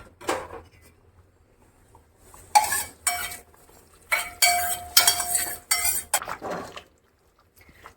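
Tempering is added to a pot of fenugreek leaf pitla: a metal spoon scrapes and clinks against the pot in several close bursts separated by quiet gaps.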